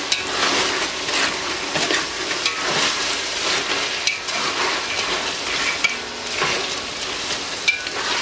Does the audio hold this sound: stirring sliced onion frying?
yes